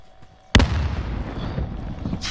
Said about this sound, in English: Grenade out!